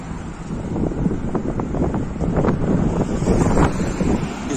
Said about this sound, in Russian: Извиняюсь за ветер.